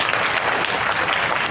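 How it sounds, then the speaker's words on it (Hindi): Audience at a rural gurukul gathering claps enthusiastically in a dense, continuous burst of applause, loud and close for its short span. "जोरदार तालियां बजाइए"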